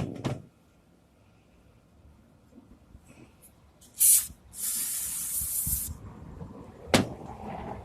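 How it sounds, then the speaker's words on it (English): Two bursts of aerosol spray hiss into the holes of a Craftsman string trimmer, a short blast followed by a longer steady spray, with a sharp click or knock near the end. "And just spray in all the holes."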